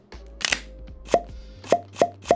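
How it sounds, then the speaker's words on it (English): The case of a Freewell Pro card reader being opened, giving a series of close, crisp popping clicks, about five distinct hollow plops with a faint low hum underneath. "But therefore they also included a very pleasing opening sound."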